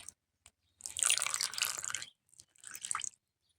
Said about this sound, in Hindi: तो तेल को डाल देते हैं, कच्चे तेल इस तरह से